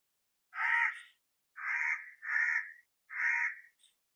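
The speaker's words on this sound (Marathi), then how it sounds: "इथं आपल्या कावळ्याचा आवाज चालू करतो" A recorded crow call played from a mobile phone: four caws in a clear, evenly spaced series, crisp and fairly close, with silence between calls.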